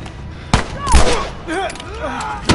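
Gunfire in The Last of Us video game: a few sharp, loud single shots spaced apart, with a voice talking between them.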